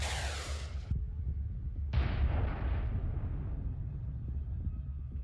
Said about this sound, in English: The explosion caused significant damage, leaving the tank unable to withstand another strike.